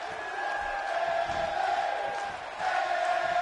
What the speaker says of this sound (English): As the crowd here in Buffalo is getting behind Bayley.